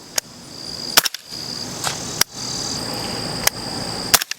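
Several sharp, short gunshot cracks from an integrally suppressed Broad River Tactical CAR 15 SD AR9 pistol-caliber carbine ring out at irregular intervals outdoors, over a steady buzz of insects.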